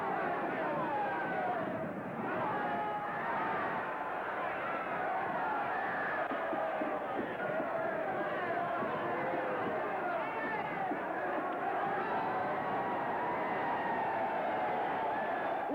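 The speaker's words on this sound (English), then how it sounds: "The crowd's gone wild." A boxing crowd in a 1933 film roars wildly at a knockout, a dense, sustained wall of cheering and shouting from a large audience, steady and loud throughout.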